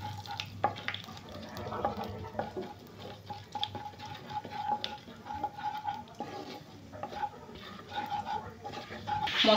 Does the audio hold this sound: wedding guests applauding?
no